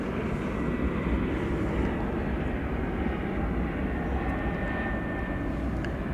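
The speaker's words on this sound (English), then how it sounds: "Right, American 1060. I see it on the radar. It's an Airbus A321." Jet aircraft noise at DFW Airport, with an American Airlines Airbus A321 nearby: a steady, broad, loud roar that holds through the whole stretch, with no talking heard over it.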